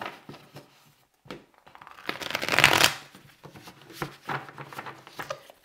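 Tarot or oracle cards shuffled by hand close up, scattered riffling flicks building to a dense, louder burst of card noise, then several more irregular shuffles and taps.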